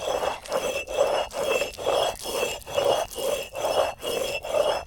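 Thuthi leaves are ground into chutney on a grinding stone, a rough, rhythmic rubbing scrape repeating about twice a second, close and steady, with no talking.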